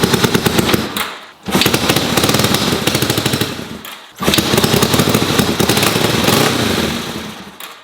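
A Honda CB450 motorcycle, restarted after ten years of sitting and running slightly off on fuel, barks with rapid loud staccato firing pulses, dropping out briefly twice before catching again.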